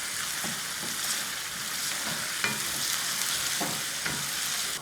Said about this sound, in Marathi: 2-3 मिनिटं परतायचं.